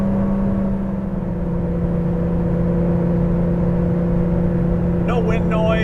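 A 1983 Porsche 911 engine drones steadily at half throttle, around 4,000 RPM in fifth gear while climbing uphill at speed, a loud continuous in-cabin hum with a strong low tone, with a brief squeak near the end.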